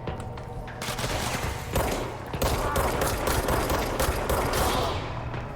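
Sustained, loud video-game gunfire from Control, dense bursts of automatic shots and rapid reports filling the whole stretch with little pause, a brief dip in the first second before the barrage resumes.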